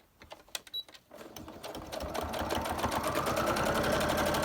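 Sewing machine stitching lace onto a laminated junk journal page, starting with a few short bursts of stitches and then settling into a fast, steady run that grows louder.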